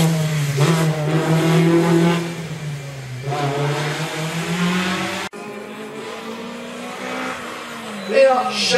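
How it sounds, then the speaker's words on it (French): A Renault Clio race car at a hill climb passes close by with a loud sustained engine note rising and falling through the gears, and a commentator talks over it. "Et là, Charles Duret qui passe devant nous"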